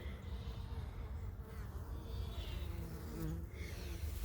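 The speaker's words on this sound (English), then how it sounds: "I need to pull the tarp back on the bees" Bees swarm around a hive with a hollow bottom set on a garden porch in November, giving a steady, close buzzing drone that holds evenly throughout without any voices.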